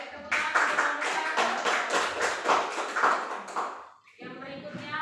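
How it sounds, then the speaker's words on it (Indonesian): A classroom group of students claps for a presenting group after a micro-teaching science lesson, a dense burst of applause lasting about four seconds before it fades and a voice begins speaking. "tepuk tangan untuk kelompok"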